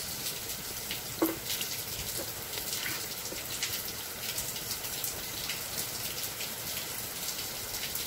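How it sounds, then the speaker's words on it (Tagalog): Steady rain falls outdoors in a dense, even hiss of drops on surfaces, constant and moderately loud for the whole stretch, with a faint knock near the start. "Background ko siya rin ng ulan."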